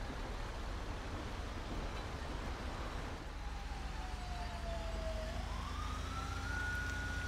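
Emergency siren in GTA 5, a single distant wail rising and falling over steady road and engine rumble, growing a little clearer toward the end, with no talking.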